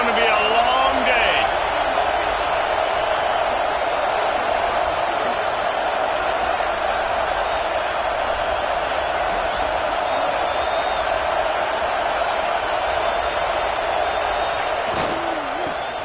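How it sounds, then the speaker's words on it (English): A stadium crowd in the College Football 26 video game roars in a constant, loud, full-throated wall of noise that holds steady throughout. "This crowd, full throat, spreading the eardrums and letting them know it's going to be a long day."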